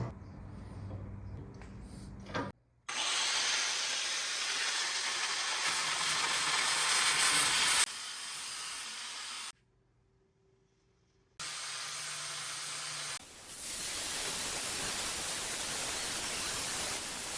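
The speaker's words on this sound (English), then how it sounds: "the first step is to smooth these down using the angle grinder" An angle grinder smooths the teeth of an old steel rasp, a steady loud broadband grinding hiss that runs in long passes with a couple of abrupt pauses and drops in between.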